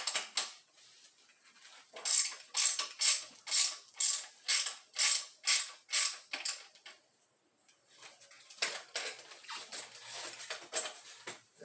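A 15mm wrench ratcheting as it loosens the axle nut on a bicycle's rear wheel, a steady run of close, sharp clicks in regular strokes, a pause, then a quicker, fainter series.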